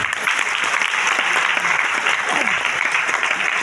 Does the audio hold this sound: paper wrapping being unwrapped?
no